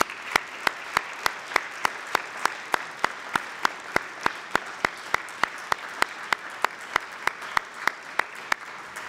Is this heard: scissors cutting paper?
no